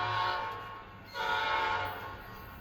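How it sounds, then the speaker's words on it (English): An Amtrak California train sounds its P5 horn, two loud sustained chord blasts separated by a brief dip, close by and rich in harmonics, with no talk over it. "That's a pretty nice train horn."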